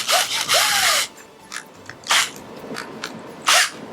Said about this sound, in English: Actually, I may just go ahead and grab my hand drill,